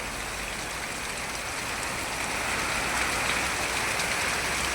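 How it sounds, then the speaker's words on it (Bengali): Heavy rain pours down during a storm, a dense, constant hiss of water on surfaces with no break or voices. "আবার ঝড়ও হচ্ছে, বৃষ্টি হচ্ছে।"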